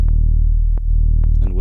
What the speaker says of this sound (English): I'm going to put some distortion on this bass to make it a bit dirtier. Without it,